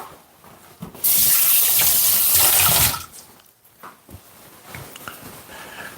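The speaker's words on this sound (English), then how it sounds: "Just gonna rinse my hand off." Tap water gushes loudly into a kitchen sink for about two seconds while hands are rinsed during fish and dumpling prep, then cuts off, leaving quieter handling noises.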